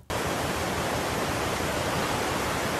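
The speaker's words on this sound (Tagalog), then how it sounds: "kaya trip na trip ko yung tunog ng agos ng tubig." River water rushes in a steady, dense, hissing roar that never lets up. It sounds close and fills the whole moment, with no voices over it.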